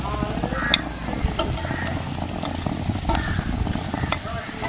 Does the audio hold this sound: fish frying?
yes